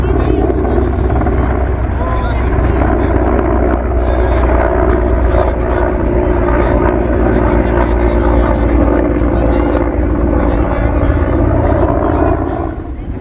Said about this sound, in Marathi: वरती आर्मीचं हेलिकॉप्टर घिरट्या घालत होतं